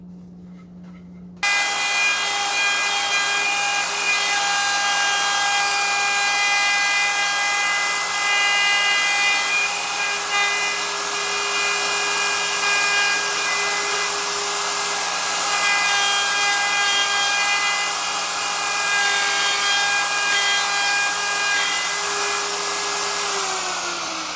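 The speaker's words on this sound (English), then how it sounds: "Now I'm going to hit it with the drill, the router bit" Steady high-pitched whine of a router bit cutting wood while routing a guitar body for a Floyd Rose bridge, running continuously after a sudden start.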